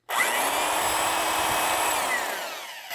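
A power drill starts abruptly and whines at a steady high pitch for a few seconds, close and loud, working light aluminum, then winds down slightly.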